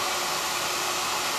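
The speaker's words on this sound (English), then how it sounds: "So just a regular hairdryer" A steady, loud hair dryer blowing with a constant broadband whoosh throughout.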